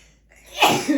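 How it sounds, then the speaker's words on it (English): A single close sneeze bursts out sharply after a quiet moment, followed by a brief trailing sound. "I'm gonna sneeze."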